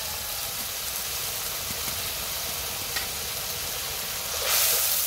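Masala paste of ground coriander, ginger-cumin paste and salt sizzles steadily in a pan for a fish curry, a constant close hiss that swells louder near the end.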